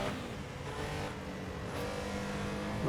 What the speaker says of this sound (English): We work our way down the gears, let the engine brake and do its thing.